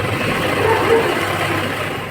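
An embroidery sewing machine runs with its needle working in one spot while the frame is moved, giving a steady, continuous mechanical whir at close range with no talking.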